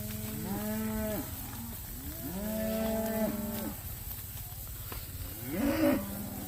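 Red cattle low repeatedly during a short cattle drive on an Iowa pasture farm, several long moos in sequence at moderate distance, with a rising call near the end over a steady outdoor background.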